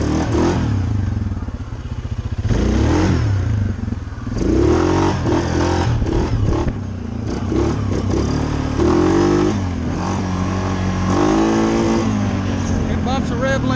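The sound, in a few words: Suzuki KingQuad 750 ATV engine revving while riding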